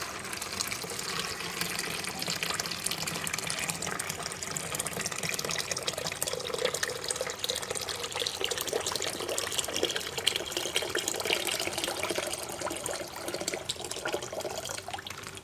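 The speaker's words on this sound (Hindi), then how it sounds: "तो ये है खुशी का नहाने के लिए पानी, जो मैंने गर्म कर लिया है।" Warm water heated for a toddler's bath runs and splashes steadily in a village home, a continuous, fairly loud rushing wash with no voices over it.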